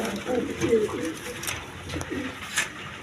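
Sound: pigeons cooing

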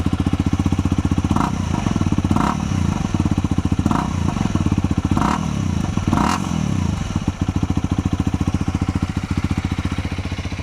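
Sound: single-cylinder motorcycle engine revving

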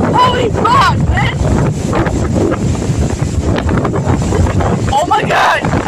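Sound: strong wind blowing into microphone

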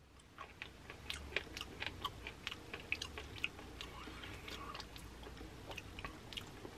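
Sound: chewing sea cucumber in tteokbokki

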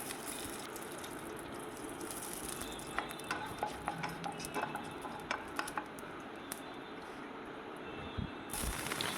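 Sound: nigella seeds and dry chillies tempering in hot oil

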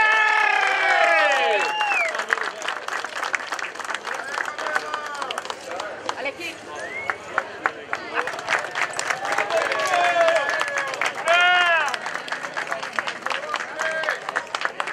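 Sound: applause for the motocross podium

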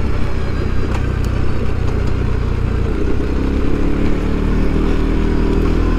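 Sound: CFMOTO CFORCE ATV engine braking on rough trail

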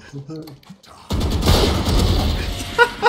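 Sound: gunshots from the video game Valorant

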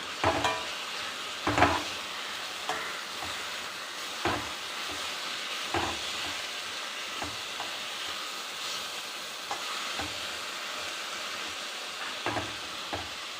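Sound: stirring horse gram thoran frying in a pan

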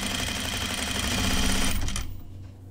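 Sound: sewing machine stitching men's pants

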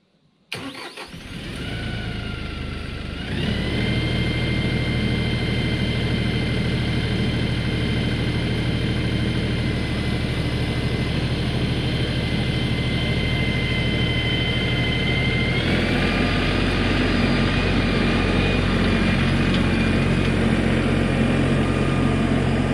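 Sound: tractor engine starting and idling

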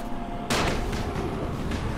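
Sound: firecrackers going off in the video game Dying Light

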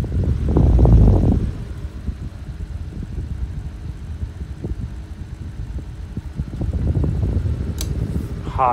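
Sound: 1920s GEC Freezor 16-inch desk fan running

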